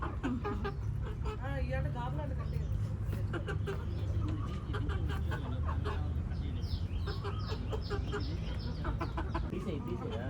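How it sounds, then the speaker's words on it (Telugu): Backyard hens, including black ones, cluck softly and intermittently over a steady background hiss while a person talks nearby. "ఈ నల్లకోడి, ఆ నల్లకోడి అసలు గుడ్డు పెట్టలే వచ్చిన కాడి నుంచి."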